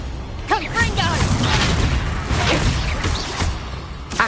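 Spell-casting explosions and whooshes in Hogwarts Legacy, including the Confringo fire spell, with booms and bursts in quick succession under a voice calling out spell names throughout.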